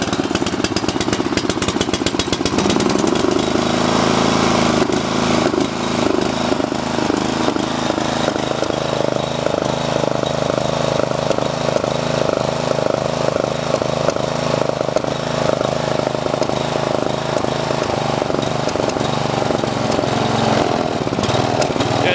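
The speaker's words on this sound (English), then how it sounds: "Thing still has a lot of popping and backfiring through the carburetor right here." A Sears Craftsman wide cut mower's engine runs loud and close with an uneven, popping idle, backfiring through the carburetor repeatedly across the whole stretch.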